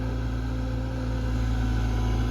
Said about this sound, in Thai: แต่ว่ารอบเครื่องยนต์ที่เขาเร่งนี่ก็กลางๆนะครับ